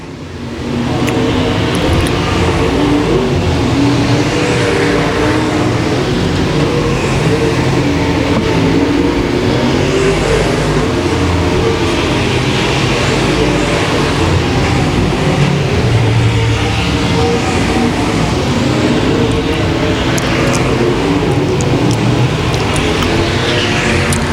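Race cars roar around the Boothill Speedway oval near the end of a race. Dense, loud engine noise runs steadily throughout, with several machines overlapping and no pauses.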